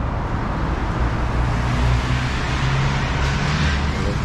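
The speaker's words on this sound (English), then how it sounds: "So there's some traffic in the noisy downtown area." Steady traffic rumble in a noisy downtown area, cars and engines droning continuously at moderate distance with no distinct pass-bys, alone without talk.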